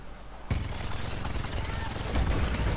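Rapid sustained gunfire from the Sky Trooper in Plants vs Zombies Garden Warfare 2 starts abruptly and rattles continuously at a fast rate of fire, loud and dense, with game effects layered underneath.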